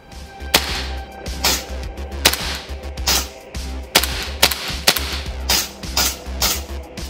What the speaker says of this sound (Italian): vado quindi a inserire il caricatore nella stupenda Desert Eagle. Tac, e andiamo a sparare